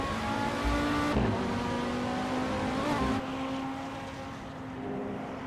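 Race cars, including an Audi TT RS, roar through turn 7 at Sonoma Raceway, a steady, loud engine drone with shifting pitch as the cars pass.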